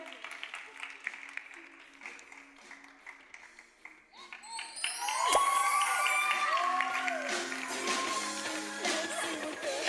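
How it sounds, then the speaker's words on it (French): Studio audience on a French television show breaks into applause and cheering that swells midway and holds steady, with a host's voice and music-like tones mixed in underneath. "Ça s'applaudit, s'il vous plaît"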